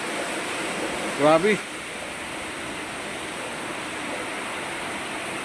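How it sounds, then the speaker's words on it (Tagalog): Heavy rain pours down around motorcycle drivers, a steady, loud hiss that fills the whole stretch, with a man's brief exclamation partway through. "Grabe lakas ng ulan, mga ka-driver."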